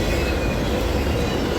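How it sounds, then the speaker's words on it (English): UPS freight train passing on the railroad, a loud, close, continuous roar of wagons rolling by with metallic wheel noise and a faint squeal, no voices. "There is no delaying this train, because delaying this train is not an option."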